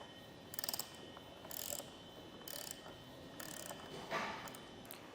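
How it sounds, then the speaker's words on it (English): A 10mm socket wrench ratchets to tighten a Rhino-Rack Vortex roof rack tower on a 2023 Cadillac XT5, giving five or six quick, faint clicking bursts spaced about a second apart, close by and without speech. "you can come back in with that 10mm socket wrench or wrench and"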